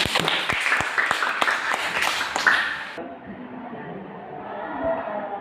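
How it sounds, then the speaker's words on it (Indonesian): Students clap in a classroom, a dense burst of applause for about three seconds before it cuts off abruptly to quiet room noise. "Oke, tepuk tangan."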